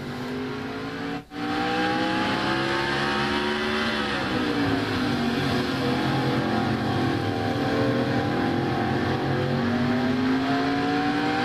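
A number 9 Ford race car runs an onboard lap at Martinsville. Its engine drones loud and steady throughout, with the pitch dipping and climbing through the corners and one brief dropout near the start. No voices are heard.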